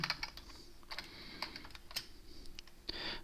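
Quiet, quick keystrokes on a computer keyboard come in short bursts with brief pauses, close and clear with no talking.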